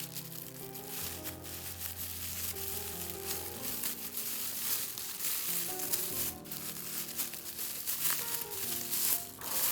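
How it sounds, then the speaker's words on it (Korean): A plastic bag holding a skein of lambswool knitting yarn is opened close up, giving a steady run of crinkling, rustling plastic with occasional sharper crackles. "그래서 이거 실을 일단 비닐을 한번 열어볼게요."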